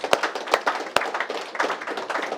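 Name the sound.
audience applause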